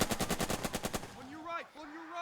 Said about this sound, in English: We're going to go back to just controlling the MG here, and we're going to put some shots on these units.